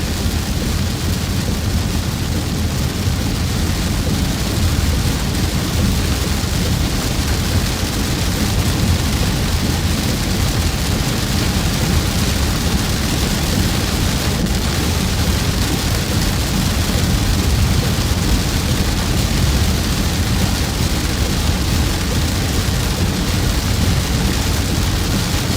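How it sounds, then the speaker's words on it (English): Heavy pouring rain during a tornado-warning thunderstorm, a dense, steady roar of downpour that holds loud and unbroken from start to finish with no voices. "And here comes the just pouring rain again."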